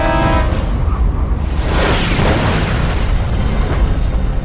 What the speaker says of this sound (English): The powder in a main magazine ignites.